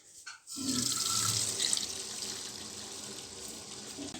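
Water gushes from a tap after a short click, a steady hissing splash that continues close by without talk.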